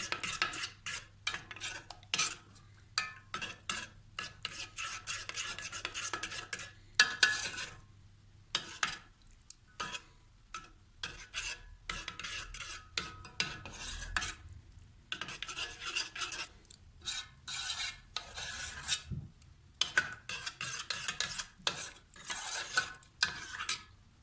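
A spoon stirs ingredients in a pan while cooking, giving intermittent scraping and clinking strokes in bursts with short pauses, close and moderately quiet, with a faint low hum early on.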